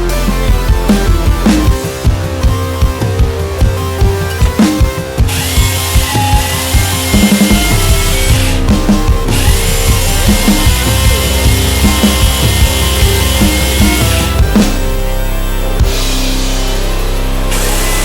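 A power drill bores a small hole up through a wooden floor during bedroom electrical work, sounding as loud, close bursts of whirring and grinding that start and stop repeatedly.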